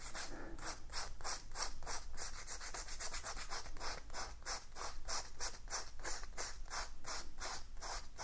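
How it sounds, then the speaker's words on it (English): Sandpaper scuffs an electric unicycle's rubber inner tube in quick repeated back-and-forth strokes, close-up and moderately quiet, a steady rasping rhythm with no talking. "Using the sandpaper, you are going to scruff up the tube"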